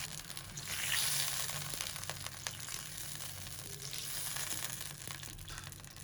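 Milk goes into a hot pan of frying ginger and garlic for a chicken green handi, giving a steady soft sizzle with faint crackles, fairly quiet throughout.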